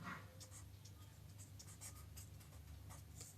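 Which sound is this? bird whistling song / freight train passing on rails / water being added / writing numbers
writing numbers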